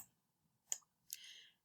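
Two quiet, separate clicks of a computer mouse, a sharp one followed by a longer click about half a second later, in a quiet room with no talking.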